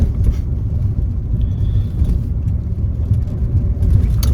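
Steady low road rumble and engine drone from a Ford Fiesta ST cruising on an open road, heard from inside the cabin at a constant, fairly loud level with no talking.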